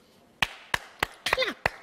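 Five distinct hand claps sound close and fairly loud at a loose, uneven pace, with a short vocal sound slipping in between the later claps.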